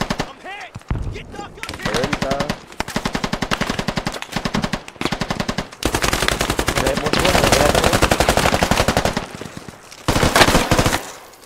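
Bursts of machine gun fire in the video game Squad, rapid rattling volleys starting and stopping repeatedly, loud and near, with people talking between and over the shots.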